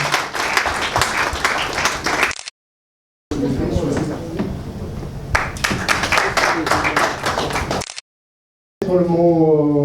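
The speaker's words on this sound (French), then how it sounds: "Sous vos applaudissements," Crowd applause at a football club awards ceremony, bursts of clapping broken by two short silent gaps, with a voice speaking over the final moments.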